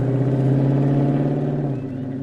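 In a Kill Bill film scene, a car engine hums in a loud, steady low rumble as the car pulls away, then the sound eases and drops off near the end.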